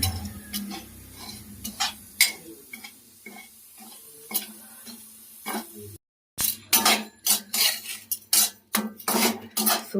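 A spoon scraping and clinking against a pan while semolina (suji) is stirred and roasted, a steady run of quick metallic taps and scrapes with a brief gap midway, close and with no talking.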